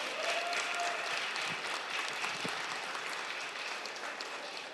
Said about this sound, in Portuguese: então uma salva de palmas para a galera